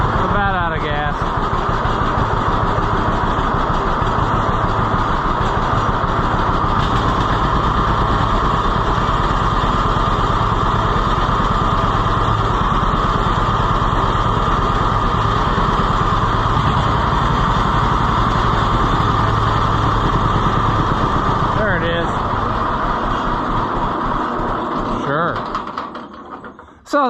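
An Oliver 1365 tractor engine runs steadily at close range, a loud continuous drone holding for most of the stretch before tapering off near the end, with people talking over it.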